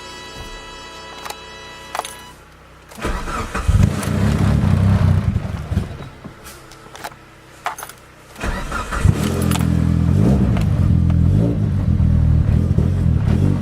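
A car engine starts with a crank and settles into a steady low idle at about 1,000 rpm, with brief revs and some clatter along the way.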